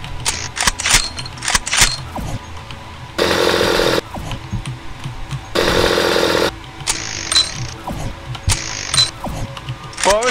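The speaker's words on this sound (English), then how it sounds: "Why would you need the triple chainsaw when one chainsaw already kills everything?" Triple chainsaw weapon firing in the video game Starforge, loud grinding mechanical bursts with ratcheting gear-like clatter, two long sustained roars between choppier stretches, no talk.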